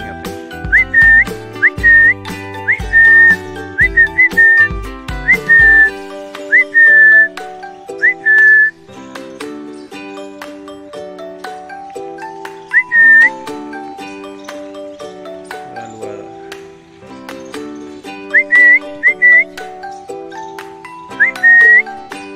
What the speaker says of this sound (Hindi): एक सीटी बजाता हूँ, देखता हूँ तीनों आते हैं यहाँ पे।